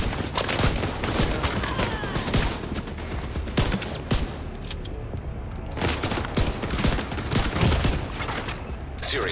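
Turret machine gun fire in The Division 2, with sustained loud automatic bursts close by and chaotic battle noise throughout.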